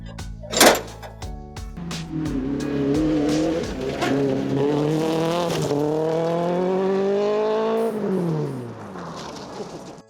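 A stripped-out Toyota Corolla rally car engine revs and accelerates hard, rising in pitch through the gears, with a brief sharp burst at the start and a drop as it backs off near the end.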